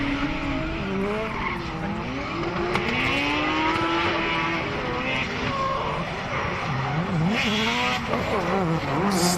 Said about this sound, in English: Nice handbrake drag for the Unicorn.